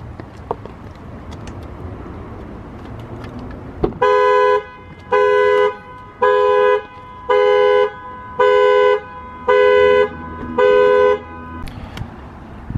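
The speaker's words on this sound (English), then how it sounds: "When I do so, the alarm goes off as such." A C6 Corvette's car alarm blares in seven evenly spaced, loud horn-like honks, each about a second long with short gaps, after a moment of quiet background noise.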